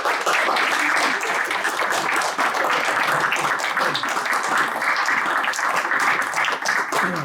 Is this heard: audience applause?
yes